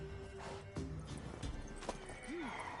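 A mare from The Witcher 3 whinnies with a short rising-and-falling call near the end, after muffled hoof clops on the ground, all heard alone without talk.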